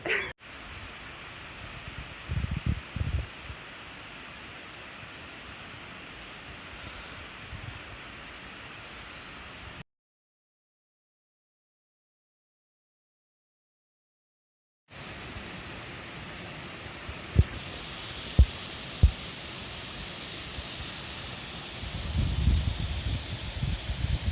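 Steady rushing water of the small waterfalls at the Cascade de Planque, a constant broad wash that fills the scene outdoors, broken by a few seconds of silence, with occasional rustles and knocks nearby.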